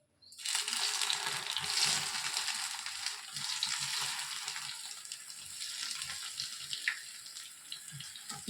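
Bread pieces dropped into hot oil for bread halwa set off a loud, dense sizzle close by, crackling and hissing continuously and slowly easing over several seconds.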